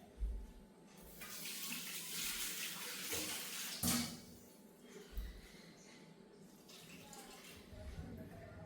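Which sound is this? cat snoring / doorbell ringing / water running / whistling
water running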